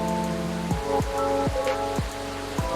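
Steady rain falls outside in the video game Coffee Talk, a constant wash of drops heard alone, with a few soft, repeating tonal sweeps layered over it.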